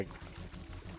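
Soft watery sloshing with a faint rhythmic lapping pulse, quiet and close, from the environment of the video game ECHO, heard alone without talk.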